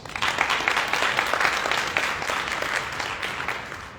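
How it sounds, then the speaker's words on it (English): Steady applause from an audience of women and some men at an NAACP Women's History Month luncheon, many hands clapping continuously at moderate distance and gradually thinning toward the end. "So please give yourselves a round of applause."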